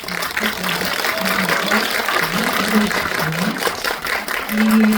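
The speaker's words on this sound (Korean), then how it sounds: "좀 많이들 같이 함께 좀 박수를 쳐주시면" An audience at a film screening with a talk session applauds steadily, a dense sustained clatter of many hands, loud and even, with a voice speaking over it.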